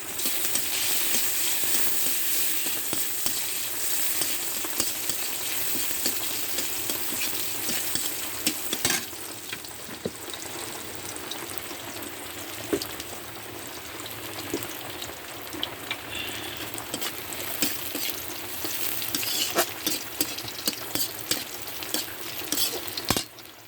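Tangra fish cooks in oil with a long, steady crackling sizzle, dense with small pops and intermittent stirring scrapes throughout.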